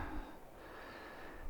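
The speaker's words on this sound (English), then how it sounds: "I'm breathing really hard because I actually smoked too damn much and I've been walking." Heavy, hard breathing from a man who has been walking outdoors, close and rough with snorting gasps over a soft background hiss.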